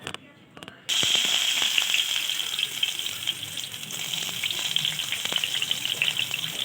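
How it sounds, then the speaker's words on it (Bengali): Chopped garlic, ginger and chili sizzle steadily in hot oil in a wok for chilli chicken, a loud continuous frying hiss that starts abruptly after a brief quiet moment, with faint scraping clicks. "কড়াইতে তেল গরম করে এক এক করে দিয়ে দিতে হবে রসুন কুচি আদা কুচি লঙ্কা কুচি"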